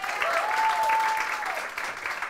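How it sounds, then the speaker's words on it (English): An audience gives a brief round of applause for a performing group, moderately loud clapping that tapers off over about two seconds, with a faint voice under it. "Another round of applause to Maureen and the Mercury 5."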